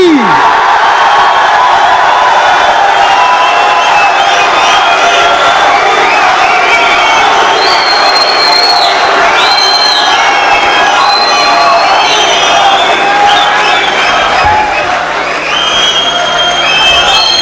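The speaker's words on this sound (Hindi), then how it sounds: "भरपूर तालियों में इस्तकबाल कीजिएगा" A theatre audience at a poetry recital cheers, whoops and applauds as the poet is welcomed to the stage, a loud, continuous crowd roar with shouts rising above it throughout.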